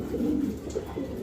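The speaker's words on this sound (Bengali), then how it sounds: "এখানে দেখতে পাচ্ছেন 2 জোড়া আর্সেঞ্জেল কবুতর" White-top Archangel pigeons cooing nearby, a couple of soft low rolling coos in quick succession over faint background noise.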